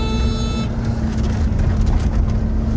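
A car driven fast by a rally driver over mountain terrain in India, with a loud steady engine roar and road noise throughout and a brief tonal whine at the start.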